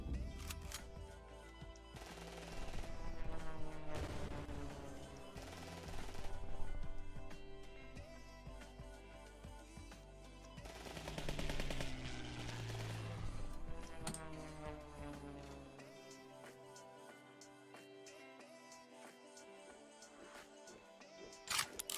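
Burst of automatic fire from a precision bomb card in the WWII card game KARDS, rapid rattling shots with heavy booming impacts, loud and busy, fading into quieter low rumble toward the end.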